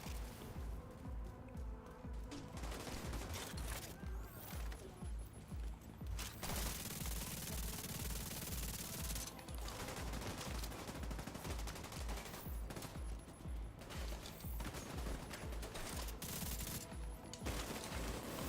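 Turret fire in The Division 2 during a solo heroic PvE mission: sustained rapid machine-gun bursts with rhythmic pulsing shots, dense and close, running almost without pause and no talking over it.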